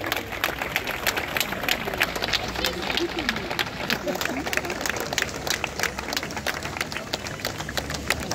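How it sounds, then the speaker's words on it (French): Crowd applause at an outdoor Napoleon III costume parade in Vichy after a neighbourhood dance troupe performs: dense, steady clapping from many people, sustained throughout at moderate volume. "Vos applaudissements pour tant de danse de voisins le Bretonneux."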